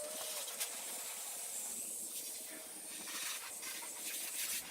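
A hose spraying water to rinse soap off a car exterior during a wash, a continuous broad hiss of water that stays steady throughout, close and fairly loud.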